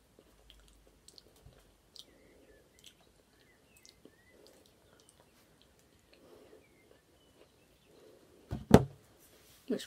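Soft crunchy chewing of a banana-flavoured treat from Croatia close to the mic, a few quiet bites building to louder crunches near the end.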